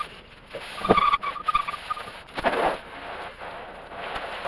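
Water from a hose nozzle sprays onto a 1964 Ford Fairlane with peeling clear coat, a hissing splatter that surges in uneven bursts and then eases to a softer steady spray.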